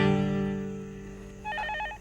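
A telephone rings on a call: a warbling electronic ring pattern of rapidly alternating tones starts partway through, sounding over a sustained tonal musical underscore.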